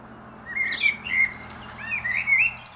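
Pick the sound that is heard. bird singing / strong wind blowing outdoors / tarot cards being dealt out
bird singing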